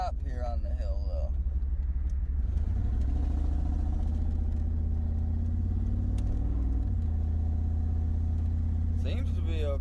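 A car with a blown head gasket and misfire pulls away from a stop on a hill, its low engine rumble and drone steady and close throughout, with a voice briefly at the start and end.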